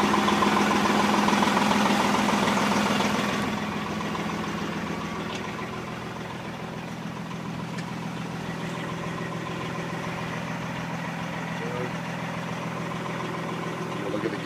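A 1998 Kenworth truck engine idles steadily with a low, even mid-range rumble that starts louder and settles slightly quieter after a few seconds, continuing unchanged with no voices.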